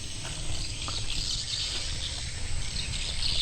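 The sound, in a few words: recorded swiftlet calls played from swiftlet house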